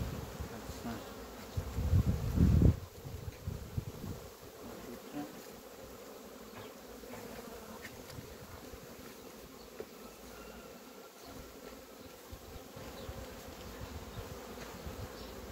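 Honeybees buzz steadily in a low, continuous drone at an open hive being given feed patties, with a brief louder burst of close buzzing and handling noise near the start.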